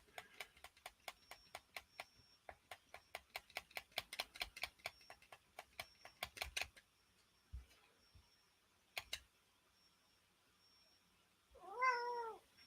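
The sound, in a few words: cat meowing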